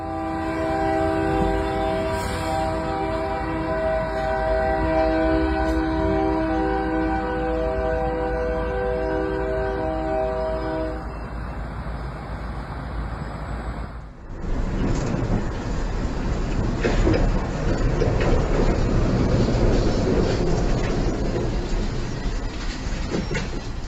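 A train approaching a crossing in Baton Rouge, Louisiana, its horn blaring in long sustained blasts before giving way to the loud rumble and clatter of the train passing close by.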